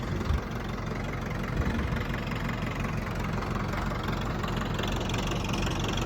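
The engine of a 1974 Ford 5500 backhoe idles just after a cold start, a steady, dense low rumble with a faint knock that runs on without a break.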